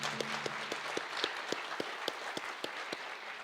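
Applause from an audience honouring a ceremonial elder at a sister cities signing ceremony between a city and the Northern Arapaho, heard as a steady ripple of clapping with a few distinct, regularly spaced claps standing out.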